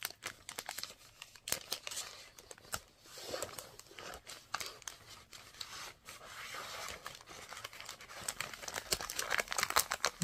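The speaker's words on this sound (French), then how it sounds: "j'aime bien remettre dans les paquets d'origine" Envelopes being slid back into their original plastic packaging, producing close, steady crinkling and rustling of plastic with small scrapes and taps throughout, quiet, no speech.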